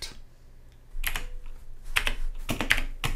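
Computer keyboard typing while CSS code is written for a pull-quote style, heard as bursts of quick clicky keystrokes that grow busier toward the end, close and clear with no talking.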